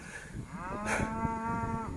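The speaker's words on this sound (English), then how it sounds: "if you can hear me over the noise of the cows" Cattle mooing in an open field: one long, loud, drawn-out moo rising and holding near the middle, with other low lowing and farmyard noise around it and no talk.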